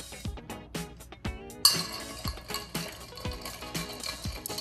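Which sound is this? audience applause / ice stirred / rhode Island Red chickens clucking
ice stirred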